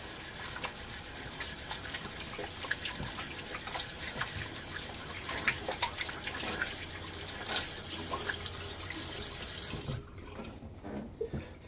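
Tap water runs steadily into a sink as a hand is rinsed, a continuous splashing hiss at moderate level that cuts off near the end.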